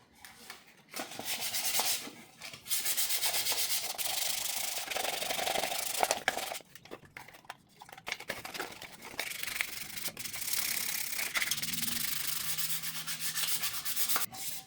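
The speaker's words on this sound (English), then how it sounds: "I'll have to throw a 220 on them, dry sanding" Dry sanding of car headlights with 220 grit sandpaper, a steady close scratchy rubbing in long strokes with brief pauses between passes.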